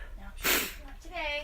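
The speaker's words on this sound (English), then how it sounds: "That's why I keep sneezing and I'm snuffling like crazy." A person with bad allergies sneezes once, a short loud burst amid close conversation, with talking before and after it.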